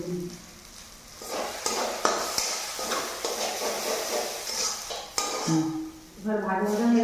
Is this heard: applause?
no